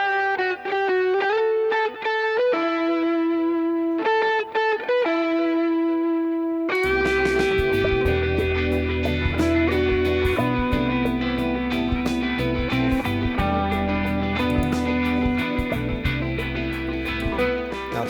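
Electric guitar through an effects unit in Echoplex delay mode: clean, picked repeating notes open, then a loud, dense distorted passage takes over with sustained tones and echoing repeats throughout.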